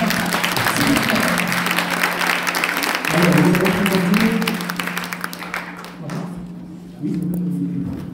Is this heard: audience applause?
yes